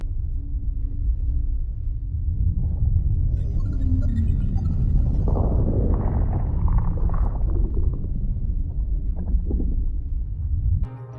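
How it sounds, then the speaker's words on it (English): Fortnite cube in the video game giving off a deep, ominous rumbling drone, steady and loud throughout, with a brief crackling swell in the middle. "the cube makes a weird noise, honestly kind of a scary noise"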